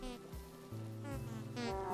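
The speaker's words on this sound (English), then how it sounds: "Oh, it's a lot of angry bees." Swarm of angry bees buzzing steadily in the video game Vintage Story, a dense droning hum with shifting pitch that continues throughout without pause.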